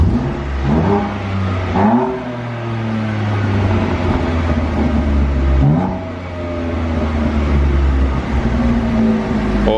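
A BMW M2 Competition with a Remus exhaust, set to Sport Plus, revs repeatedly from idle toward about 3,500 rpm, each throttle blip rising and falling in loud, close bursts over a steady burbling idle.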